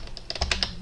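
Faint quick clicks of a computer keyboard as the keys are pressed for a Control J shortcut, several short taps in rapid succession, nearby and quiet.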